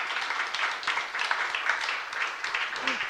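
A church congregation at a youth service applauds steadily. The clapping is soft and fairly distant, a dense patter that runs the whole time at an even level.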